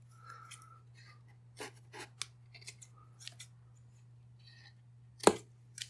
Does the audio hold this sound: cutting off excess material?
yes